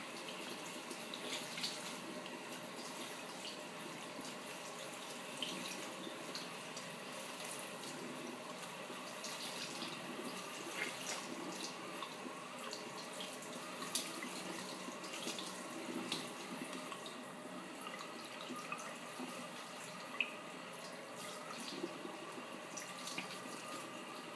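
A tap runs steadily during an ASMR hair wash: a soft, continuous hiss of flowing water, fairly faint and close, with no talking.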